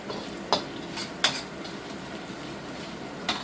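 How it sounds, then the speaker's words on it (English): Onions stir-fried in hot oil for lomo saltado crackle in a low, steady sizzle, broken by three sharp utensil clinks against the pan spread across the stretch. "the onions start to wilt slightly. As they start to react to the heat of the oil."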